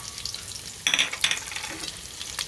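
Ginger, garlic and onion hit a hot pan for chicken tinola, a quiet pause broken by a sudden loud sizzle that flares twice and then settles into a softer hiss.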